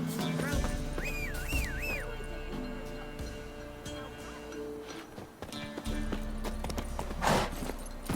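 A horse's hooves clip-clop in the video game The Witcher 3, a rhythmic trot amid game ambience, with a whistle and snatches of voices over it.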